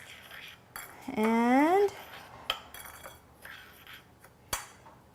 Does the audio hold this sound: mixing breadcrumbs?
yes